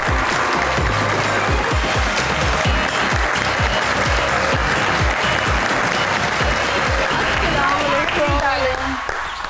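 A crowd on a talk show applauds steadily and loudly as a guest is welcomed, the clapping sustained throughout with a voice speaking over it.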